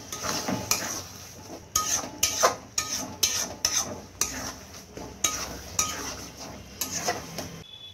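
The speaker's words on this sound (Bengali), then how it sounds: "নাড়িয়ে নিচ্ছি।" A spatula scrapes and knocks against a pan in a quick, uneven rhythm while bitter gourd curry with coriander leaves is stirred, over a faint background sizzle.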